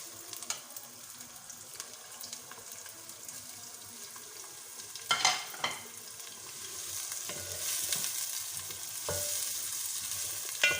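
Chopped onion sautés in cooking oil in a pan, a steady soft sizzle with the scrape and knock of stirring now and then, a few sharper clatters mid-way, close and with no talking.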